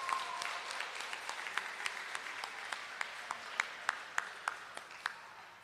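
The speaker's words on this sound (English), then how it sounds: "could I get one more round of applause for all participants first?" Faint, sparse clapping from a small audience at a grade 6 academic bowl, individual hand claps standing out at a roughly even pace against a quiet room.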